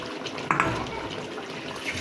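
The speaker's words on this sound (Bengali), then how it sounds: "আর এখানে আমি জিরার একটু পানি ছিল," Cumin water is poured into a pan where a tomato curry with ground cumin is cooking, making a short splashing burst that settles into a soft liquid hiss.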